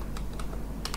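Rapid clicks of a computer keyboard as a name and quantity field are entered in MS Access, with a few separate keystrokes and a quick final pair, close and clear over a low steady hum.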